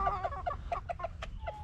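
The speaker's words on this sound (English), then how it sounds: "old Boris Johnson, the Polish rooster over here with his hairdo" A Polish rooster clucks in a barn, a quick run of about eight or nine short, fairly close clucks in an uneven rhythm, with no voices.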